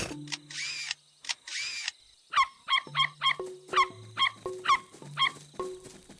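A bird gives a rapid series of drill-like calls, about a dozen sharp, buzzy bursts in quick, steady rhythm, loud and close, with no talking.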